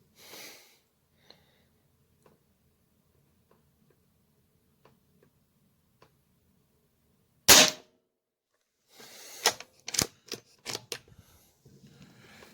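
A Hatsan Flashpup .25 air rifle firing a JSB Exact pellet lets out one sharp, loud crack near the middle, followed a moment later by a cluster of short clicks and knocks. Quiet ticks fill the stretch before the shot.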